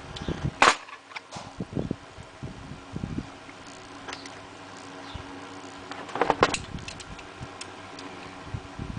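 A lock pick gun snaps repeatedly against a five-pin BRAVA rim lock, giving sharp close clicks: a few sparse shots at first, then a tight cluster near the end, with faint metallic ticking between.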